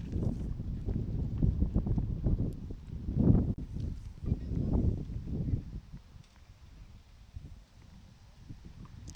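Gusty wind buffets the microphone at an outdoor tennis match, low rumbling bursts strongest early on, easing to a steadier, softer rush toward the end.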